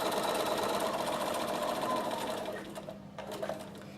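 A sewing machine runs in a rapid, steady mechanical whir while stitching fabric for quilt blocks, then slows and stops near the end with a few soft clicks.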